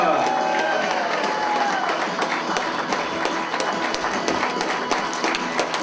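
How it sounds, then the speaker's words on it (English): An audience applauds wrist wrestling competitors at a bodybuilding and wrist wrestling event, sustained dense clapping with crowd noise and voices throughout. "Give him a round of applause"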